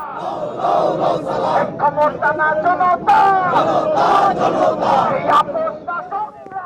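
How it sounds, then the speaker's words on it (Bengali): Party activists of Jatiya Nagorik chant 2024 uprising slogans outdoors at the Savar National Memorial, a loud group of voices shouting rhythmic call-and-response phrases in close, repeated bursts. "দলের নেতাকর্মীদের ২৪-এর গণ অভ্যুত্থানের বিভিন্ন স্লোগান দিতে দেখা যায়"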